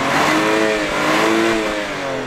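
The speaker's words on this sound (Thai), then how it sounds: "เสียงท่อเบื้องต้นเดิมๆเป็นแบบนี้ ครับ" A car on its stock exhaust, before an X-Pipe is fitted, revs up in a couple of rising and falling surges, loud and close, with a throaty mid-range engine note.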